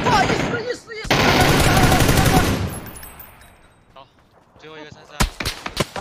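AK assault rifle fire in a video game: a long loud burst of automatic shots, then quieter sporadic shots and sharp close cracks near the end, with brief voices in between.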